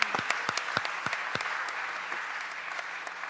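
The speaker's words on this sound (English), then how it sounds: "give them a round of applause." Applause from an audience thanking a group of presenters for their report, a steady patter of many hands with a few sharper close claps, continuous through the whole stretch.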